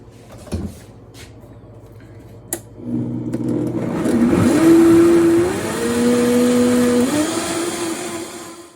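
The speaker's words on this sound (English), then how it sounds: "And we're going to put this in the Vitamix." A Vitamix blender blends soup, starting after a few light clunks into a loud droning whir that rises in pitch and shifts as the motor speeds up, close and dominant.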